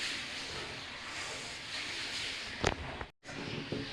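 Milk boiling in a pot, a steady broadband hiss and bubbling simmer, fairly quiet and continuous, with a brief clatter near the end and a short break before the hiss resumes.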